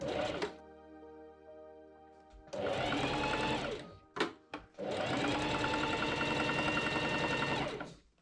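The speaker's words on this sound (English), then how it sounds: "I machine sew that seam up" A sewing machine runs along a seam of Regency-style men's pantaloon trousers in two close, steady bursts, the second longer, with a brief pause and a short clunk between them.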